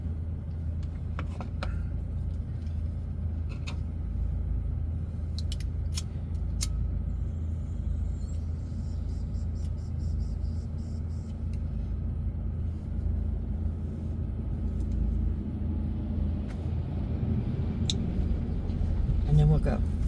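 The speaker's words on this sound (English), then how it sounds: "I'm gonna let this logging truck go by me" A logging truck rolls past on a road near a remote boondocking campsite, a steady low rumble building slightly toward the end, with a voice talking over it.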